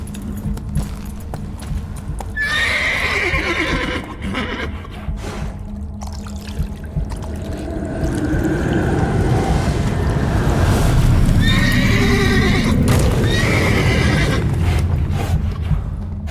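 Two separate horse whinnies ring out in the video game The Witcher 3: Wild Hunt over a low rumble of hoofbeats and ambient noise, the second neigh arriving after a longer stretch of movement.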